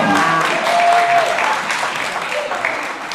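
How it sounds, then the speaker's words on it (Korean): A church congregation claps steadily throughout, a warm wash of applause that slowly tapers, with faint voices mixed in. "박수 좀 쳐주세요"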